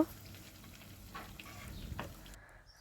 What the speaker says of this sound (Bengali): একটু লাল করে ভেজে নেব